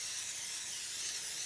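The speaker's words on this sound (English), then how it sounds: "I'm just going to spray 3 wells at a time" Cooking spray hisses steadily and close into the wells of a brownie pan while keto brownies are prepared, a single continuous spray with no talk over it.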